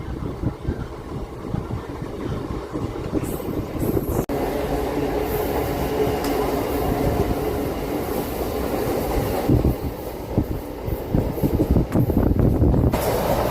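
A MEMU passenger train runs along the rails, its loud, steady rumble and rattling wheels continuous throughout, with a few sharper clanks and jolts standing out from the noise.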